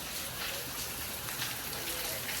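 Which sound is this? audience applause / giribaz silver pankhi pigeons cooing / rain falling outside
rain falling outside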